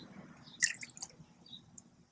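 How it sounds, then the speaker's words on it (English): Water poured from a small cup into a larger cup, giving a brief close splash and a few soft drips and trickles in an otherwise quiet room, with no talking. "I'm curious how many times I can pour water from the little cup into the big cup"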